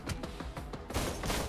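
Rapid bursts of firearm shots crackle in close succession in the zombie survival video game Dawn of Zombies, dense and continuous over a short stretch.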